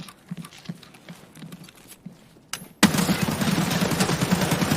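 Gunfire erupts in the video game Firefight, a few scattered shots followed by a sudden loud burst of rapid, continuous firing.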